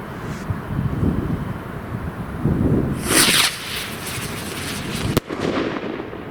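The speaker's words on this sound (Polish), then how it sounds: "Powiem wam, że jak na takie małe rakietki, to lecą nawet wysoko." Small Piromax Aplauz PXR213 firework rockets launch and burst outdoors, with whooshing rises, crackling pops and a sharp bang late on, all against wind noise.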